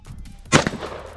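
A single sharp gunshot rings out at a 2-gun shooting match, close and loud, with a quick follow-up impact and a brief decaying echo.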